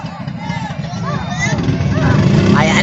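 A racing boat engine runs at a steady, rising drone after a hard start, heard at a boat race in Mariveles while people talk loudly over it.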